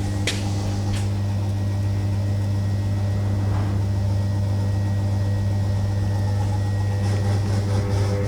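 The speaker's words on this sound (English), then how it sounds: "The pump's not that loud at all." Electric fuel pump running on a V8 turbo Toyota Supra, a steady, continuous low hum and whine that holds level throughout, close and alone with no talking.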